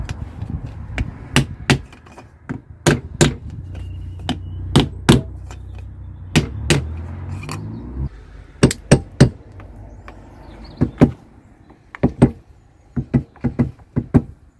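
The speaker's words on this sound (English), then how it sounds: "So I'll just use a soft faced hammer." A soft-faced hammer taps a new rear wheel bearing into place on a Nissan 350Z, struck through a homemade fitting tool: a long series of sharp, close, irregular knocks, sometimes in quick clusters, with no talking.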